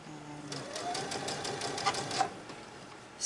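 A sewing machine runs along a quarter-inch quilt seam while piecing flying geese blocks, a fast even stitching rattle close up that starts, holds steady for a few seconds and then stops.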